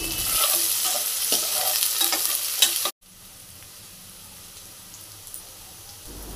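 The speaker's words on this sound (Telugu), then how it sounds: "ఇప్పుడు 3 స్పూన్స్ ఆయిల్ వేసుకొని కట్ చేసిన ఆనియన్స్ బ్రౌన్ వచ్చే వరకు ఫ్రై చేసుకోవాలి" Chopped onions frying in oil for a spicy naatu kodi curry, a dense steady sizzle that cuts off abruptly at the midpoint, followed by a much quieter, fainter hiss with no talking.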